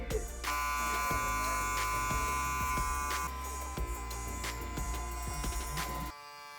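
An electric hair clipper, guard fully closed, buzzes steadily and close while cutting a skin fade, with small shifts in tone as it moves through the hair. It cuts off just before the end.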